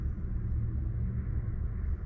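A 1966 Chevrolet C10 pickup with a disc brake conversion and drop spindles, heard on a road test drive as a steady, loud low engine and road rumble that runs without a break.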